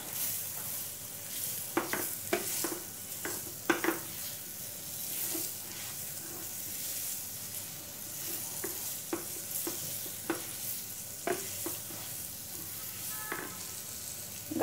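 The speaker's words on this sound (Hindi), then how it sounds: "कॉर्न और पनीर को जो क्यूब में कट के रखा था वो ऐड कर दिया और अच्छी तरह से फ्राई कर लेती हूँ मसाले के साथ।" Corn kernels and paneer cubes fry with spices in a pan for kachori filling, a steady close sizzle broken by repeated scraping stirs of a spoon against the pan.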